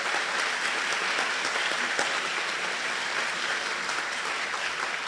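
Steady applause from an audience at a gubernatorial candidate forum in the Northwoods, a dense, even wash of clapping filling the room from start to finish with no talk over it.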